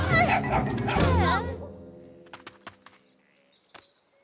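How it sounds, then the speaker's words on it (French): Cartoon dog in a French-dubbed children's animated series yaps and barks in several short sharp bursts after excited shouting and music, the barks close and clear with a faint whimper near the end. "Viens là, mon chien!"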